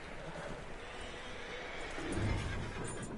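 A horse in a video game whinnies once, fairly close, over a steady bed of wind-like background noise.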